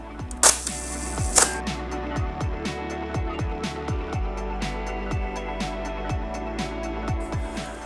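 A Bronica S2A medium-format camera fires a one-second exposure: a sharp mechanical snap as the shutter opens, then a second clack about a second later as it closes, with faint background noise around.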